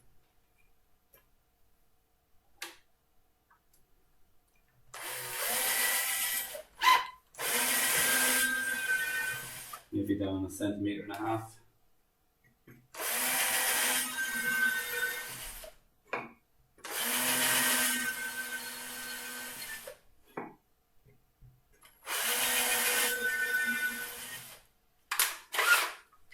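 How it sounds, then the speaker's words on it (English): A power drill fitted with a pilot bit bores dowel holes in wood for a wall clock frame, whining in five loud sustained bursts separated by short pauses, with brief handling clatter and a short spoken remark in between. "Okay, so we want to get those drilled up then."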